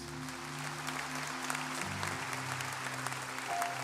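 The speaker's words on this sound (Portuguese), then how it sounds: "Salve de palmas" A church congregation applauding during a sermon, sustained clapping of many hands over a low sustained musical hum, steady and moderately loud throughout.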